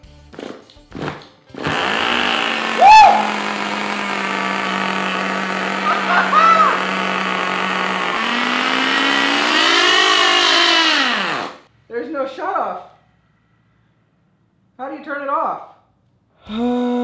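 A small nitro glow-plug engine runs as a steady, loud, buzzing drone for about ten seconds, its pitch climbing near the end before it cuts off. Brief voices follow in the quiet.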